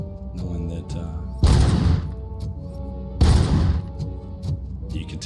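Gunfire in the first-person shooter RoboCop: Rogue City: two loud, broad bursts about two seconds apart, each lasting under a second, over a steady bed of game music.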